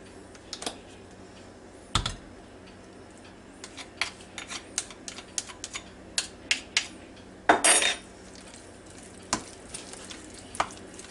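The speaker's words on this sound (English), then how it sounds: "when you're stirring this up, stir it pretty gentle now" A spoon stirs potato salad in a bowl, making irregular clicks and scrapes against the bowl with one brief rustling burst, quiet and close with no voices.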